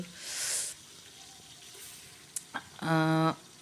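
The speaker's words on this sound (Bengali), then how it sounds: "তেল দেওয়ার পরে পেঁয়াজগুলি ভাজা ভাজা করতেছি লাড়াচাড়া করতেছি" Chopped onions frying and being stirred in oil in a pan, a soft sizzle with brief scraping clicks, followed by a short tonal beep near the end.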